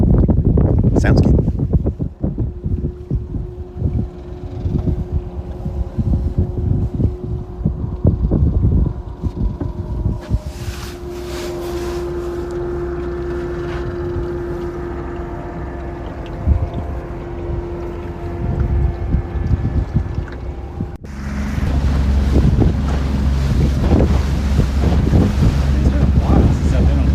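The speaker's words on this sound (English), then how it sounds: "We're on the boat." A boat cruising on open water off the Oregon coast, with a steady low engine drone, gusting wind buffeting the microphone and washing waves, loud and continuous. A voice talks briefly near the start.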